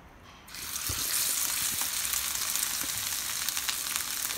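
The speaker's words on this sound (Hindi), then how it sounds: "अभी भी स्लो आंच पे है, मैं स्लो आंच पे पकाऊंगी।" Peshawari chapli kababs with tomato sizzle in oil in a pan over low heat, a steady close hiss that swells suddenly and holds, with occasional spatters and pops.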